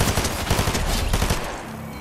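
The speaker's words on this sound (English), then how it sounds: "See, sometimes machine guns come in clutch." Rapid machine gun fire in a Fortnite match, a dense continuous burst of close, loud shots that thins out toward the end.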